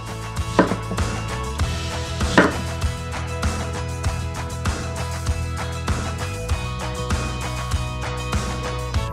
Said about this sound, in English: Chop 5 onions with washers.